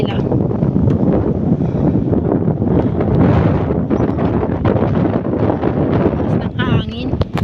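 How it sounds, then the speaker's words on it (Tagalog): Strong wind gusts buffet the microphone in a continuous loud roar, with a person speaking throughout beneath the rushing noise. "lakas ng hangin."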